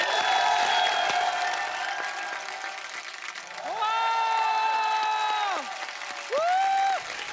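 Audience applause on a TV comedy show welcoming a playback singer: a loud, steady wash of clapping that carries on beneath rising musical tones and sustained sung notes.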